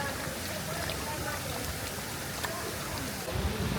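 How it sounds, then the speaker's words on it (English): Rain pours steadily outdoors at the Polynesian Cultural Center in Laie, Hawaii, a dense, even hiss close by with no voices. "And the rain is having another go at it."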